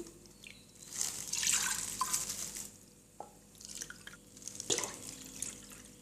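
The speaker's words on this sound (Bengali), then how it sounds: "সিরাপ তৈরি করার জন্য আমি আট কাপ পরিমাণ পানি নিয়ে নিচ্ছি" Water, eight cups in all, is poured into a pot to make syrup for rasmalai. It sounds as quiet trickling and dripping with a few louder splashes, close by and alone.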